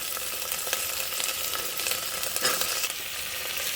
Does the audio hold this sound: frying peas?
yes